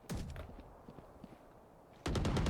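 Gunfire in the video game Valorant, with rapid sharp bursts of shots at the start and again at the end, loud and close, separated by a quieter stretch of faint clicks and taps.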